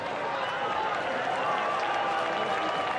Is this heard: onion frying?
no